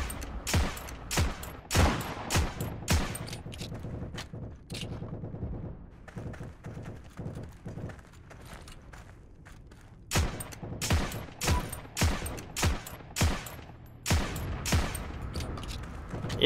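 Rapid bursts of M1/M2 carbine gunfire in the Heroes and Generals game, loud repeated shots in volleys, a quieter ambient stretch in the middle, then another run of steady firing.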